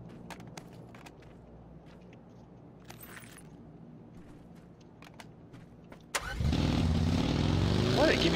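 A vehicle engine starts in PUBG on the Taego map, cranking with a sharp click and catching into a loud, steady idle that rumbles on; before it, quiet game ambience with soft footsteps and small clicks.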